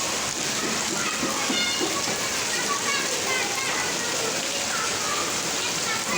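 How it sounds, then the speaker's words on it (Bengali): Heavy rain pours down steadily on an evening, a dense continuous hiss of drops drumming on surfaces, loud and close throughout with no pauses. "খুব বৃষ্টি পড়ছে। আওয়াজ পাওয়া যাচ্ছে একদম অঝোর ধারায়।"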